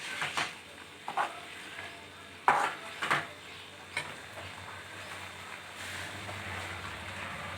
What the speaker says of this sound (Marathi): त्याला 1-2 मिनिट छान परतून घ्यायचं आहे।